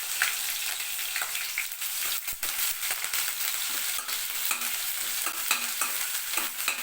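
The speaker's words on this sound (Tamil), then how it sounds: "இந்த இஞ்சி பூண்டு பச்சை மிளகாயை இந்த எண்ணெயிலே ஃப்ரை பண்ணும்போது ஒரு நல்ல வாசனையாக இருக்கும்" Ginger, garlic and green chilli frying in hot oil with whole spices for paneer pepper fry, a dense continuous sizzle close up, with stirring scrapes and occasional crackles, no voice.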